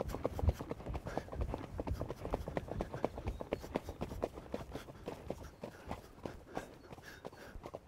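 Icelandic horse hooves at an equestrian centre in Aegidienberg, walking and tölting in a quick, even four-beat rhythm of soft thuds, fairly close and moderately quiet.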